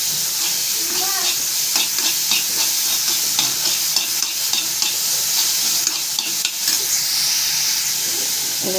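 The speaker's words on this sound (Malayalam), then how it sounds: "നന്നായി വഴറ്റി കൊടുക്കുക." Drumstick pulp with egg and salt being sautéed for a thoran, giving a steady close sizzle in the pan with repeated scraping stirs from a spatula.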